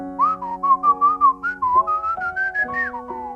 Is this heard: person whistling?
yes